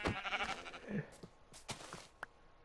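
Blocky sheep in Minecraft bleat several times in short, close bursts, with other game sounds around them and no talking.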